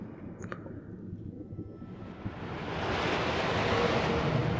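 Ocean water and waves in the underwater game ABZU, a soft wash that swells into a steady, fuller surf roar, with a few faint tones early on.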